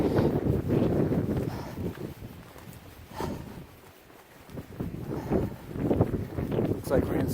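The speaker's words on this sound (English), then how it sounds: "I hope you can hear me. Because the wind is rather stout up here." Strong winter wind buffets the microphone on a high mountain ridge along the Appalachian Trail in the Smokies, rumbling in loud, uneven gusts that ease briefly midway, while someone talks over it.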